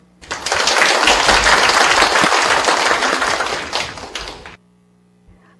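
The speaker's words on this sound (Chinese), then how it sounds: "是不是让我们用热烈掌声欢迎他。" An audience at an academic lecture on the history of disease gives a dense burst of clapping to welcome the speaker. It starts sharply, holds steady for about four seconds, then stops abruptly, leaving near silence.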